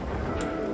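A short cooing bird call from the dinosaur video game Path of Titans sounds once, over a low steady background rumble.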